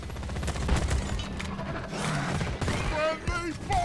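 Rapid gunfire from the co-op video game Deep Rock Galactic, dense bursts running throughout under shouting players and game effects.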